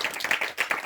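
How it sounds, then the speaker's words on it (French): Brief burst of applause from a church congregation at a Sunday service, many hands clapping together at once at moderate volume. "on acclame tous ceux qui sont présentés tout à l'heure"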